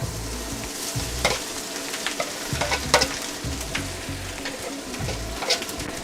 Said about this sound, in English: I'm going to go ahead and add my rice back to the wok here.